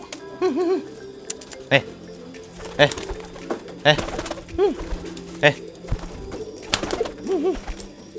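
Feral rock pigeons kept at home coo repeatedly in soft, rolling bursts, close by, with occasional sharper calls and faint background voices.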